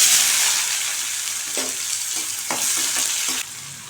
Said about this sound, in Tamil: 2 வெங்காயம் சேர்த்துக்கலாம்.